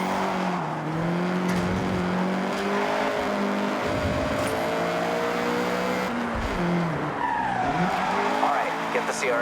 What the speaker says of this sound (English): get the CRX up to speed